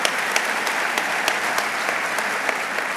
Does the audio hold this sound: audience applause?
yes